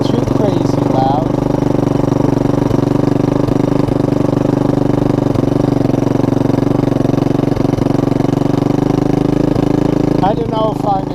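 A 1983 Honda ATC 200E three-wheeler engine runs steadily at idle, a loud continuous drone with a faint rhythmic thump that holds through the whole stretch, with brief scattered noises near the end.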